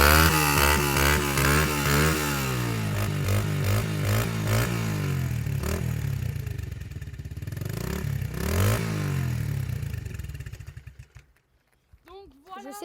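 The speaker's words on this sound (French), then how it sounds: "Le pot d'échappement qui réagit." A dirt bike engine revs hard in repeated rising and falling bursts, loud and close, with a rough rasping exhaust note before cutting off near the end.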